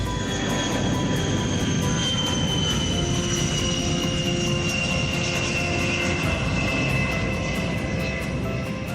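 A WB-57 high-altitude jet aircraft gives off a steady, loud roar with a thin whine running through it, holding constant for the whole stretch with no voices.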